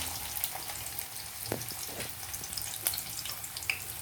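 Sliced onions dropped into hot oil in a pan for a fish egg fry, giving a soft, steady sizzle and crackle with a few sharper pops, close by and fairly quiet, with no talking.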